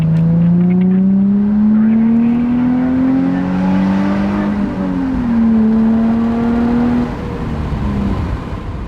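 Nissan 350Z drift car accelerating on a test drive, its engine note climbing loudly and continuously through the revs with a brief dip as it shifts, then pulling on again, close and dominant with no talk.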